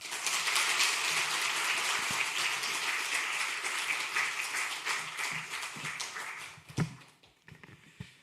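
Church congregation at a Sunday evening service claps in sustained applause, fairly soft and roomy, thinning out toward the end with a few scattered claps and taps.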